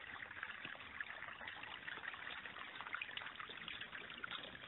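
Water from a forest stream trickles and burbles steadily along a fall hiking trail, a continuous close wash of flowing water with no voices.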